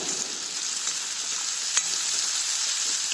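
Onions fry in a pan over high gas heat, giving a steady loud sizzle with one brief clink partway through and no talking.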